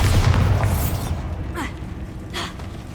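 A single Bombarda blasting-spell explosion from Hogwarts Legacy, a heavy boom at the start that fades out, followed by a few quieter whooshing magical effects.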